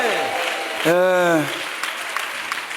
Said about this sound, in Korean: 우리 주님께 박수로 경배하십시다